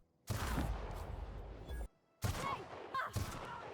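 Sniper rifle fire in the game The Outer Worlds: two loud, booming shots with long decaying tails, separated by a brief silence, followed by a couple of quicker cracks.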